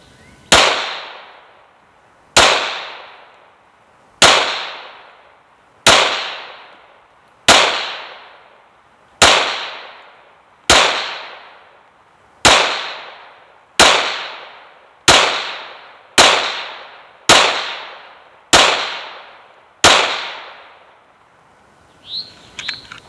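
A Smith & Wesson M&P 5.7 pistol fitted with a Holosun 507K optic fires the rest of a magazine: about fourteen sharp, loud shots at a steady pace, each with a short decaying ring, followed by faint handling clicks.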